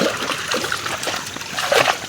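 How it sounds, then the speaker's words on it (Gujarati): Water rushing down a ravine in a goat-grazing area, with a steady splashing, trickling wash and brief louder surges near the end. "તો આ કોતરડામાં તણાઈ જવાય એટલું પાણી જાય છે"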